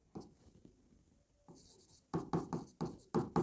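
Chalk writing out a chemical formula on a classroom board, with scratchy strokes and sharp taps in quick bursts, quiet at first and then louder and more rhythmic toward the end.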